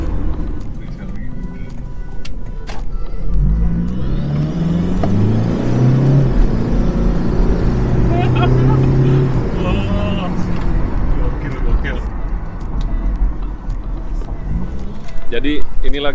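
A Toyota Innova engine rumbles and builds under acceleration, a loud, steady low drone lasting throughout with a rising tone partway through, while someone talks over it.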